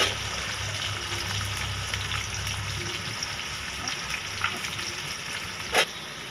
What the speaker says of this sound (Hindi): इसके बाद कढ़ाई में घी डाल लिया, इसमें ये प्याज डाल देना है।